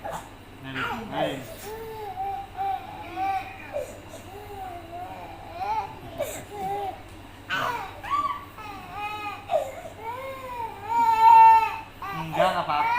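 A toddler of about two and a half cries and whimpers in rising, wavering sobs up close, while an adult speaks over and between the cries.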